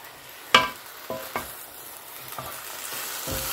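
Metal utensil scrapes and clinks against a pot amid a soft, steady sizzle of sauerkraut frying with pork hock and ribs, with a few sharp knocks.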